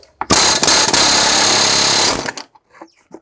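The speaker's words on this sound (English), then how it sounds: "And then you just stick the air chisel on it and fire away." Air chisel hammering against a fan clutch on a 5.9 common rail Cummins engine, one loud, continuous rattling burst of about two seconds, close up, then a few lighter clanks as it stops.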